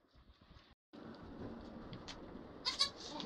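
A Kiko goat doe bleats in a barn after giving birth, with soft faint rustling and a few short quiet cries near the end, no talking heard.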